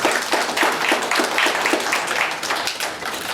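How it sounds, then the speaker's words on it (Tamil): An audience at an award function claps in a steady, moderately loud burst of hand claps lasting a few seconds, with pulsing rhythm and no talking over it. "கைத்தட்டு நல்லா."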